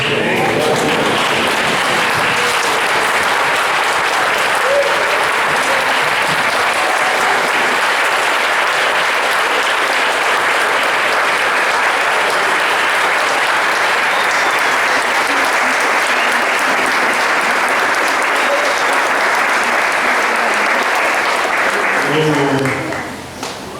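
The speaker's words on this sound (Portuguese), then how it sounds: "eu queria muito que todo mundo de pé desse uma salva de palmas muito grande para Jesus" A standing church congregation claps loudly and continuously for a long stretch, dense and sustained, fading only at the very end.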